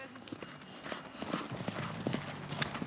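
Horse hooves beat a cantering rhythm on the footing of a show-jumping arena at an outdoor competition, steady clip-clop thuds moderately close, with people talking over them throughout.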